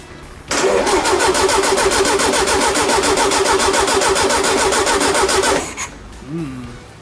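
The chrome engine of a 1971 VW Karmann Ghia fires up on its first start and runs loud and close for about five seconds with a steady, rapid putter, then cuts out; a brief voice follows.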